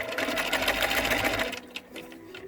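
A sewing machine runs steadily while stitching a fabric face mask, a loud continuous whir that stops after about a second and a half, followed by a few faint handling clicks.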